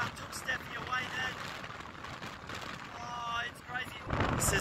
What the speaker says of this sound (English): The wind just about took Stephanie away then